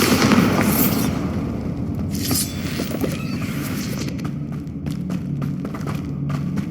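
A Bombarda blasting spell explodes in Hogwarts Legacy, a loud booming burst that rumbles and fades into crackling debris and scattered impacts.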